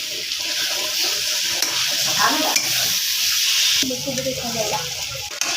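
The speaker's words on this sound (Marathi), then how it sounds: "तर या कोथिंबीरला आपण छान असं हलवून घेऊ" Coriander is stirred into a pan of Maharashtrian potato bhaji, a steady sizzle of frying with scraping spoon strokes running throughout, close and fairly loud, with no talking.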